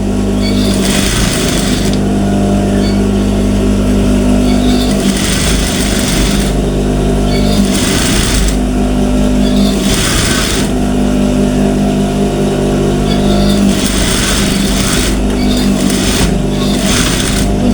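A sewing machine stitches a blouse seam in steady running bursts that start and stop, with a continuous low motor hum carrying throughout at close range.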